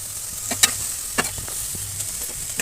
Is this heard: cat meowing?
no